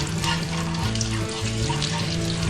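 Sugar sizzling in hot oil with whole spices for chole masala, a dense, even hiss of frying close up, steady throughout with a faint background hum.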